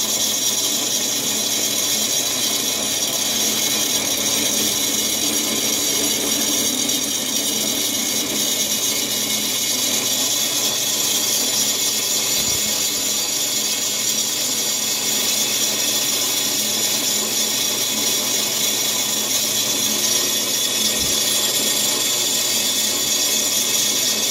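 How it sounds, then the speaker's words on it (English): A power drill boring holes through a thick piece of steel for a motorcycle security chain, a loud steady whine and grinding that continues throughout, close and uninterrupted, with no voices. "Just going to get the outer holes drilled right now."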